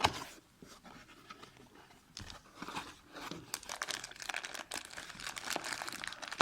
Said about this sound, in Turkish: Öncelikle okumanın özel tasarımlı kutusu bizi karşılıyor. Klasik okuma kutusu. İçini açıyoruz.